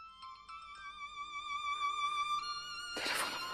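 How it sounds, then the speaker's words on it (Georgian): A phone call's outgoing ringing tone sounds as steady electronic tones for about three seconds, fairly faint and alone, followed by a brief burst of noise at the end. "ზარი გადის."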